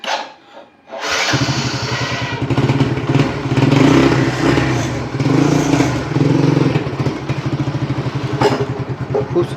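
Bajaj V15 motorcycle engine idling at a used bike dealer in Howrah, Bagnan, with a steady loud rhythmic thrum after a brief start-up, and some clatter around it.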